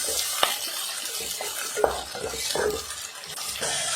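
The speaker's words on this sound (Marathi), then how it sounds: "छान असं थोडंसं परतून झालं की स्वीटकॉर्नचे दाणे घालायचे आहेत. व्यवस्थित असं मिक्स करून घ्यायचं आहे." Sweetcorn kernels being stirred into sautéed capsicum pulav in a pan: soft scraping and clinking of a spoon against the pan over a faint sizzle, close and fairly quiet, with a few sharper taps.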